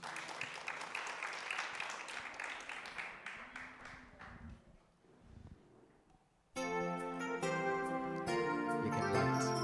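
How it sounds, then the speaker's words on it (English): Audience applause at a Remembrance Day ceremony welcomes a speaker, a few seconds of scattered clapping that thins out, followed after a short lull by music starting loudly. "Miss Nazneen Lehman, if you could please give her a beautiful round of applause"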